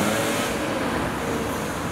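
A blue BMW E46 pulls out of a classic car meet at the exit, its engine a loud, steady broadband roar close by for a couple of seconds with no talk over it.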